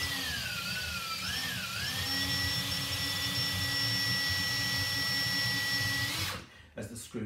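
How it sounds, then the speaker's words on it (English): A power driver whirs steadily as it drives a screw into a flange nut on a bath frame, a sustained high motor whine with pitch dips under load, stopping near the end with a few handling clatters. "just use a driver to drive that in"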